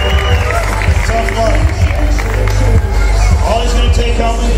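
A rodeo crowd in Cody, Wyoming claps and cheers steadily for a rider, a dense wash of applause under a loud announcer's voice.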